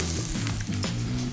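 Shiitake mushrooms hit a hot pan just after pancakes come out, giving a dense, steady sizzle with faint crackles throughout the short moment.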